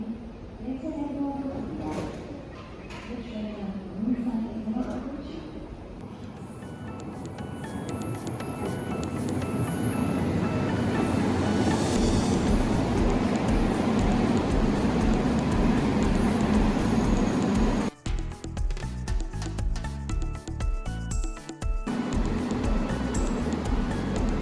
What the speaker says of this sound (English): When subway arrives, you will hear this announcement.